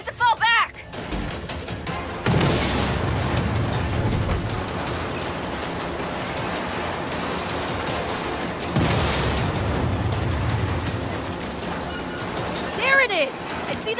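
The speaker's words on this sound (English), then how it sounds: "I'm seeing explosions all over." Explosions go off in a Saints Row train robbery mission, two loud booming bursts with rumbling tails around the third and ninth seconds, over a continuous roar of game noise with brief voices.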